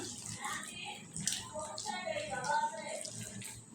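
Tap water running while marinated chicken pieces are rinsed by hand, a steady splashing flow with small shifts as the pieces are moved under it.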